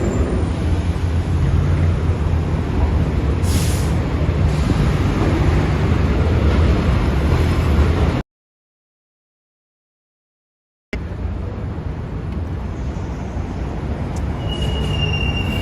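An N subway train crosses the Queensboro Bridge in New York City with a loud, continuous rumble and high squealing wheels. The sound cuts out briefly partway through, then the roaring train noise resumes.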